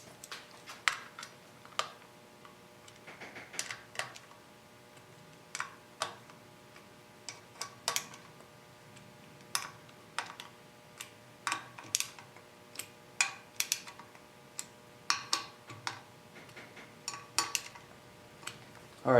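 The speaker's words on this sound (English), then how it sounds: "So first step, I'm going to be using a ratchet and socket" A ratchet and socket tightening the front brake disc bolts on a 2009 motorcycle, heard as quick, crisp clicking in irregular bursts of ratchet strokes, close and fairly quiet, with no talking.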